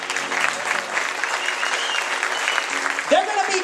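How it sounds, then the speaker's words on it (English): An audience at a Rising Star 2011 singing-competition elimination show claps for the remaining contestants, steady dense applause throughout, with a voice rising over it near the end. "please give a nice round of applause to your Rising Star top 9 contestants who remain"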